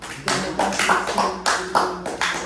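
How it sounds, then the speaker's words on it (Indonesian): A small classroom group claps for a student, Jackson, during a guidance session, a short burst of close, irregular hand claps from a few people, loud and uneven over two and a half seconds. "Tepuk tangan dulu untuk Jackson."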